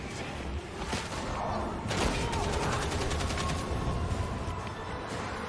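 Enemy gunner firing in a video game, a dense stream of rapid automatic shots with a sharper burst of rattling fire partway through, continuous and fairly loud in a busy game mix.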